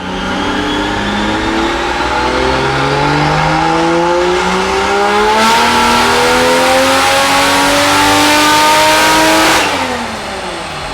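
Toyota Supra with a 2JZ-GE engine on high boost during tuning: a loud, close engine revving steadily higher through several rising pulls, the note climbing and then dropping off sharply near the end, with no talking.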